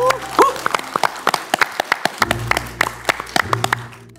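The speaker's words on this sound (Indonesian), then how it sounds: "Kita tentukan dengan tepuk tangan ya" Scattered, distinct claps from a studio audience voting for a university team on a national-insight quiz show, sharp individual hand claps at an irregular pace with a low hum and faint voices beneath.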